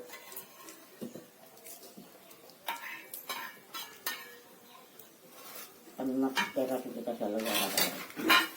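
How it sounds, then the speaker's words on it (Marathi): Chicken being tempered in a pot over a village wood-fired chulha, with scattered clinks of a spoon and utensils against metal, then a louder stretch of stirring and sizzling near the end, with voices talking faintly in the background. "फोडणी चिकनला फोडणी द्यायचं चाललंय आता"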